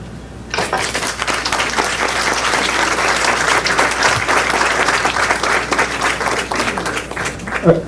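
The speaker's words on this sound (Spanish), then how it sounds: "Usted habrá escuchado el aplauso" Audience applause in a lecture hall bursts in after a brief quiet moment and continues steadily at close range, a dense sustained clapping that holds without speech over it.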